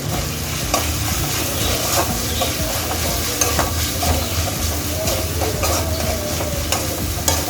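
Chilli masala sizzles steadily in hot oil in a pan for emperor fish gravy, with a constant hiss and occasional stirring clicks of the spoon.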